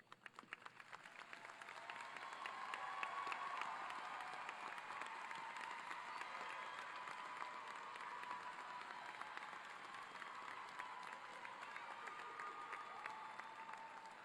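A large audience at a college commencement ceremony applauds the faculty with sustained, steady clapping that swells over the first few seconds and then holds, heard from a distance in a big hall.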